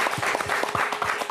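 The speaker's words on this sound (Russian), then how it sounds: "Отдельные аплодисменты, друзья," A brief stretch of applause from an audience at a Gomel evening show, dense clapping with a few louder individual hand strikes, very short.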